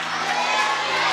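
A church congregation at a faith conference cheering and shouting together, a dense, loud wall of crowd voices with clapping mixed in, sustained throughout.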